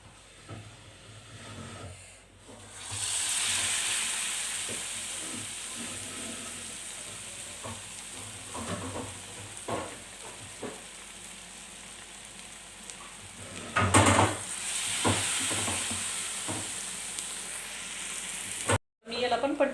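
Bread pakoras coated in besan batter frying in hot oil, a steady dense sizzle running throughout with occasional louder bursts and clatters as pieces are turned, with a voice faintly heard in the background.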